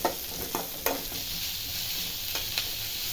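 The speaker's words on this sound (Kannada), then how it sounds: "ಎರಡು ಈರುಳ್ಳಿ ಶುಂಠಿ ಬೆಳ್ಳುಳ್ಳಿ ಎರಡು ನಿಮಿಷ ಫ್ರೈ ಮಾಡ್ಕೊಳ್ಳಿ" Two onions with ginger and garlic fry in a pan for egg sambar, giving a steady close sizzle with a few light spatula scrapes and taps. No voices are heard.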